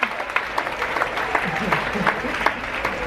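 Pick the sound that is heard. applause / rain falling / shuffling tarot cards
applause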